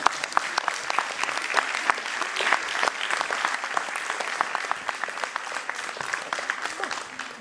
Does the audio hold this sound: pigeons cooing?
no